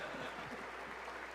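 Audience applause at a live political broadcast, a brief burst of steady clapping from a crowd, moderately close and even in loudness throughout.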